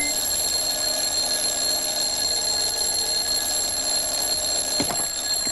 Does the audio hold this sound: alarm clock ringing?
yes